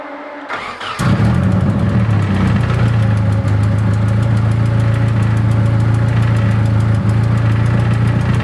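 A Nissan 240SX engine cranks and catches, then settles into a steady, loud idle that runs on unchanged; the car has a charging problem.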